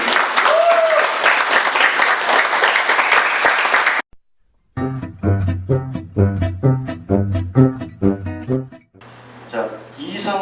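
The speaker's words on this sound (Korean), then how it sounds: "다시 한번 뜨거운 박수 부탁드립니다." An audience at a study meeting gives warm applause, a dense, loud burst of clapping for about four seconds that cuts off abruptly, then gives way to a melodic, tonal passage and voices.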